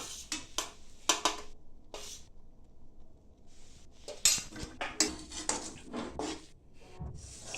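Peanut powder being stirred into a one-thread sugar syrup, heard as irregular scraping and clinking of a spoon against a pan in short bursts with brief pauses, close and fairly quiet.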